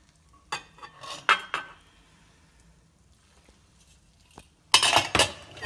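Kitchen utensils and dishes clatter during cooking: a few separate bursts of clinking and scraping, then a quiet stretch with faint taps, and a louder clattering burst near the end.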